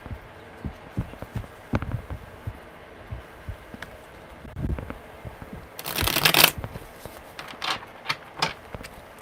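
Tarot cards are shuffled by hand in a steady run of soft riffles and taps, with one longer, louder flurry of flicking cards near the middle, close and without talk.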